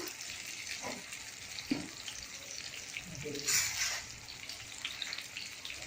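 Pointed gourd pieces fry in oil with turmeric and salt, giving a steady, soft sizzling hiss with a few light knocks and scrapes from the pan, and a brief louder burst partway through.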